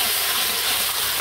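Tomatoes go into a hot pan for a Jaffna-style lentil curry, setting off a loud, steady, close hiss and sizzle that runs unbroken throughout.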